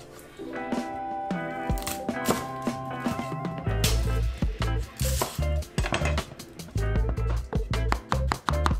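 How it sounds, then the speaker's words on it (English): Vegetables are chopped to medium size with a knife on a board in a home kitchen, giving a run of quick, close, crisp knocks in uneven bursts under a soft musical background. "So next you're gonna chop your vegetables, all your vegetables, to the size that you wanna eat them."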